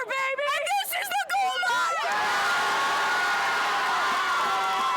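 A high school football crowd at Casa Roble High School facing Placer, with a student section: shouted chants ring out first, then a sustained, loud roar of cheering and whooping fills the stands.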